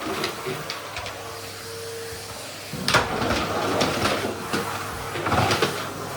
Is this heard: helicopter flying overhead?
no